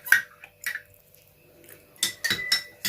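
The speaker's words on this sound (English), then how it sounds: "So I'm going to give it a good mix so that we mix everything really good." A utensil stirs a liquid cosmetic mixture containing arbutin powder in a container, giving a few scattered clinks and scrapes against the vessel close by, with quiet gaps between strokes.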